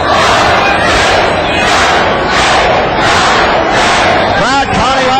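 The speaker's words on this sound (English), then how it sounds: "Crowd counting right along." A packed wrestling arena crowd chanting a count in time with punches, loud rhythmic shouts rising in regular bursts about every two-thirds of a second over a continuous roar.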